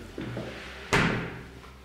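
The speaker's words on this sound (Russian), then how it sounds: "здесь уже открывающаяся распашная дверь" A hinged swing door in a bathroom of a large modern house opens with a soft creak, then lands in a single sharp thump against a steady background hum.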